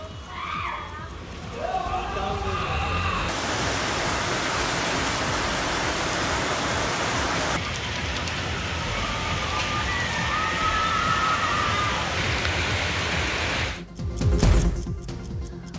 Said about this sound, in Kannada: ದಾವಣಗೆರೆ ನಗರದಾದ್ಯಂತ ಭರ್ಜರಿ ಮಳೆಯಾಗಿದೆ